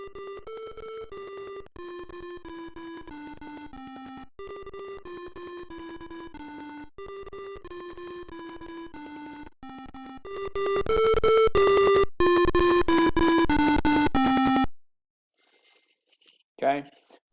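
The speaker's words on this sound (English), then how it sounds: "you're gonna finish up Twinkle Twinkle Little Star till it sounds something like this" Twinkle Twinkle Little Star played as simulated electronic tones, clean sine-like beeps stepping through the melody note by note, growing louder and harsher near the end before cutting to near silence.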